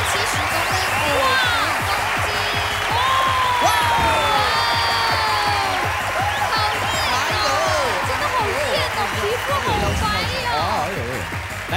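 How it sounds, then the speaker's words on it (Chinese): A Taiwanese TV variety show studio audience cheers, whoops and claps in a dense, sustained roar, with loud voices talking over it. "掌声鼓励。"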